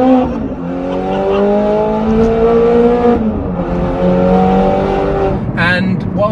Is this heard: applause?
no